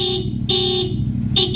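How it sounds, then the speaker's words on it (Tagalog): Bosch FC2 horn fitted to a CF Moto 450MT motorcycle, sounding two loud, close blasts: a long honk of about a third of a second, then a shorter one, over a steady idling engine rumble. "Bosch FC2 horn"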